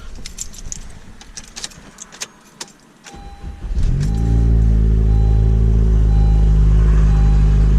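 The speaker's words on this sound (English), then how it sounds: "Go ahead and turn on the car." Keys jingle and click, then a car engine cranks and catches, settling into a steady, loud idle rumble.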